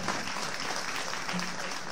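A live outdoor audience at an evening show in Bettona claps together in dense, sustained applause that stays even and fairly close for the whole moment.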